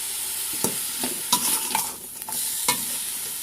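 Field rat meat is stir-fried in a hot pan, a close sizzle running under repeated sharp scrapes and clanks of the spatula, with no voices.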